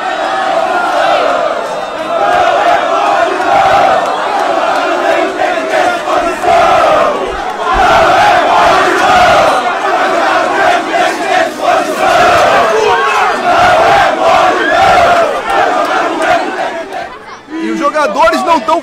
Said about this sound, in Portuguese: E agora a torcida começa.